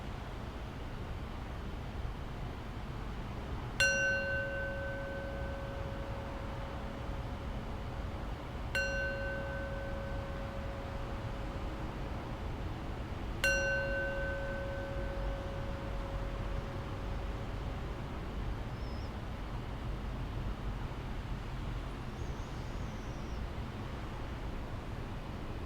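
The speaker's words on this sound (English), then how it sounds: "I'll close practice with 3 rings of the bell." Three strikes of a meditation bell closing a practice session, each a clear ringing tone with a long fading tail, spaced about five seconds apart over a quiet hiss.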